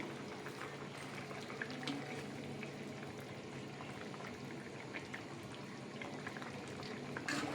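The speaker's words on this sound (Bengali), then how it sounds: "এবার এখানে ফোটার জন্য আমি ঢাকা দিয়ে দিচ্ছি তরকারিটা সিদ্ধ হওয়ার জন্য।" Ridge gourd and potato curry simmers under a lid in a covered pot, giving a steady, continuous bubbling hiss with faint irregular pops and crackles, close and even throughout with no talking.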